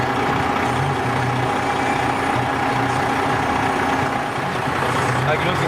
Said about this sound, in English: We're doing the injector test right now, Jim.